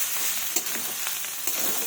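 Leftover rice fried with salt and turmeric in a pan, giving a constant close hiss of frying with a few soft scrapes as it is turned, brief and without voices.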